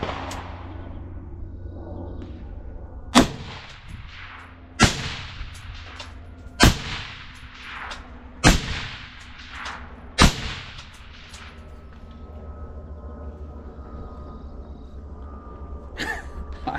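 Suppressed shots from a Gordy carbine built as a Black Hawk Down clone, firing 55-grain surplus ammunition, ring out as five sharp cracks spaced about two seconds apart with a steady background hum, followed by one more shot near the end.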